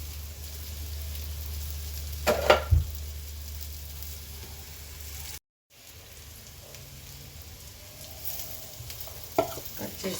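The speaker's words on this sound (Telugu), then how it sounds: "క్యాబేజ్ బాగా ఫ్రై చేసుకోవాలి." Chopped cabbage frying and being stirred in a pan for a cabbage curry fry, a steady close sizzle with a couple of louder scraping stirs and a brief dropout midway.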